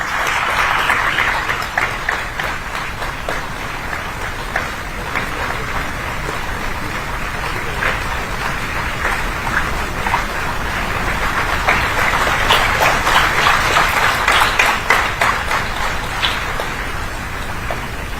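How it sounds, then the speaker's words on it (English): Sustained audience applause at a university inaugural ceremony for an international higher education fair, a dense, steady roar of clapping from a large crowd that swells slightly toward the end. "Let's keep the applause going."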